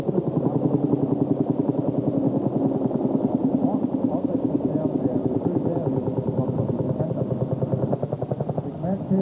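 A single-cylinder two-stroke tractor engine from 1956, tuned up to about 60 horsepower, runs at a tractor rally in Brørup, Denmark, with a fast, even throbbing pulse that stays loud and close throughout.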